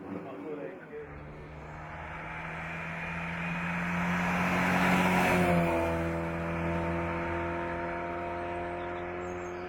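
A Cooper 1300 racing car at the Falperra hill climb approaches with a rising engine drone, swells to a loud pass, then holds a steady roar as it moves away, while a commentator talks over it.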